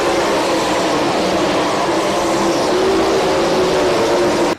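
Race cars at the Dubuque County Fair roar past in a loud, dense, continuous engine drone that stays steady, then cuts off abruptly at the very end.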